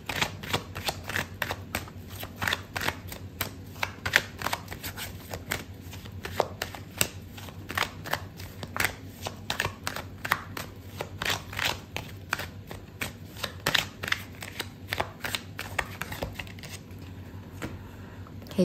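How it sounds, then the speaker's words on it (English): Tarot cards are shuffled and drawn by hand in rapid, uneven flurries of crisp riffling and slapping. The sound is close and quiet, with no voice over it. "Okay, so I'm gonna pull out another card for you."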